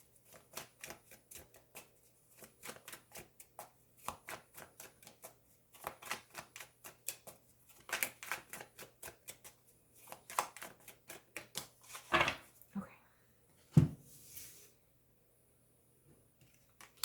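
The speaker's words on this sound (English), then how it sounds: "I'll move the cards up after I take them out. After I pull them." Tarot cards are handled and drawn close up, with quick flicks, soft slaps and shuffling rustles coming in uneven bursts, and a sharper snap near the end, heard alone without talk.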